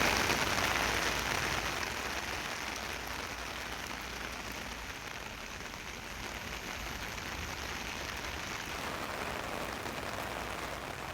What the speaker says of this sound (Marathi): विक्रमगडसह परिसरात मुसळधार पाऊस झालाय